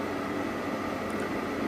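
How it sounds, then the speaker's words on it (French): A microwave oven runs in a home kitchen with a steady, low mechanical hum and airy whir, constant and unbroken, with no voices over it. "Voilà, il a mis le micro-ondes."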